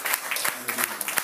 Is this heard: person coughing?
no